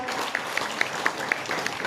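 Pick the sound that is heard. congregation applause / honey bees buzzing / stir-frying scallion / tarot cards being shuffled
congregation applause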